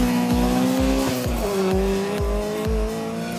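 Race car at a 2016 Caucasus Cup autodrive round accelerating through a turn, engine revving in repeated rising pulls with gear changes while the tires squeal, loud and close with no talk.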